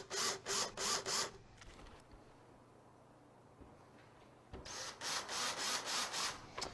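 Screws being driven in with a power driver into the mounting of a retrofit car stereo, with two close bursts of rapid whirring pulses and a quiet pause between them.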